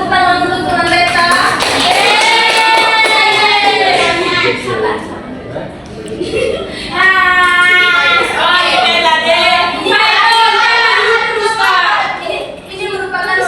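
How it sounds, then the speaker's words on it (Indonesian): Classmates in a school classroom clap for a student in two lively rounds of applause, with children's voices and chatter over and between the clapping. "Kita tepuk tangan untuk teman Beta."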